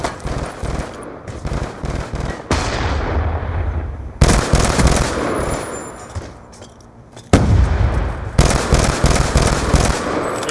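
Heavy gunfire and blasts in a competitive first-person shooter match, with a loud grenade-like explosion booming near the four-second mark and another around seven seconds, layered over dense, continuous shooting.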